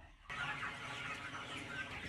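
Chickens cluck softly and continuously at their fermented feed, a faint, busy flock chatter heard at moderate distance with no talking.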